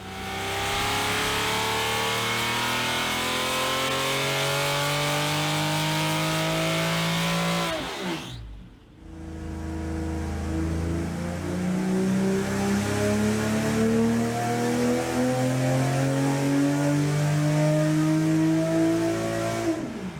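A Factory Five F9R kit supercar prototype with a 9.5-liter 755-horsepower V12 revs hard, climbing through rising engine sweeps, pausing briefly at a shift, then surging up again, loud and close, with no talking.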